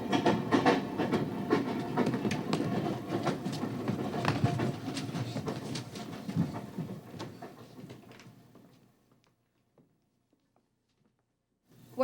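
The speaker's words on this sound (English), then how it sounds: "I jumped over and ran up to see the train pulling away" A train pulls away with a steady rolling rumble and clatter of cars, loud at first then fading out to near silence as it departs into the distance.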